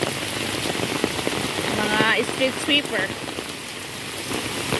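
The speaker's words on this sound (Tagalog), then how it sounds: "Lakas ng ulan." Heavy rain hisses and patters loudly and continuously on a Hong Kong street while a person speaks briefly in Tagalog over the downpour.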